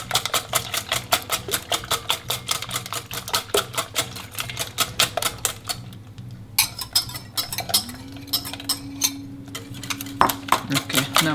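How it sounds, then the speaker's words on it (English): Eggs and cream are beaten in a bowl with a fast, steady clatter of utensil against the bowl. The strokes come as close, rapid rhythmic ticks, and a faint hum and a voice sit underneath. "Keep beating it."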